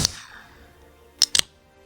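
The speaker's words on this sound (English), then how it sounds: "That's the sound of Pepsi Nitro" A can of Pepsi Nitro cracks open with a sharp pop and short fizzing hiss, followed after a pause by two quick crisp hissing bursts, faint and isolated in a quiet room.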